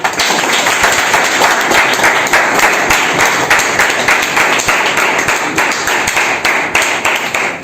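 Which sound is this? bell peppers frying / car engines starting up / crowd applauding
crowd applauding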